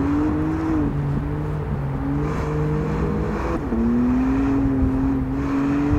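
Car driven fast through the corners of a race track during a timed lap, a loud, steady engine drone that shifts pitch as the revs rise and fall, with a brief dip and recovery midway.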